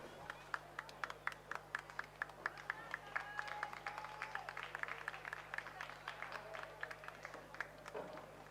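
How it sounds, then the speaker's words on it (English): Scattered applause and cheering from a crowd at a school rowing regatta medal presentation, faint and distant over a steady hum, with voices mixed in. "Nice round of applause and cheer for them"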